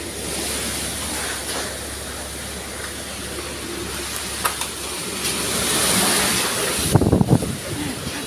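Strong typhoon wind roars continuously in Laguna, a dense loud rushing with gusty swells and some buffeting on the microphone, rising toward the end with a brief rustling burst.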